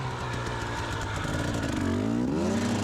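A hard enduro motorcycle engine climbs a steep hillside slope during training, revving steadily at close range and rising in pitch near the end as the throttle opens, loud and continuous without talk.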